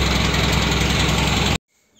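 A Blue Horse 855 tractor engine idles loud and near with a steady, throbbing rumble, then cuts off abruptly, leaving near silence.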